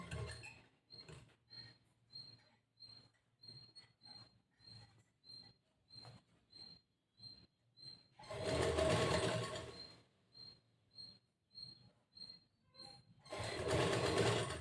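A sewing machine stitches one side of a blouse, first with a slow, even ticking of single stitches, then with two loud, fast runs.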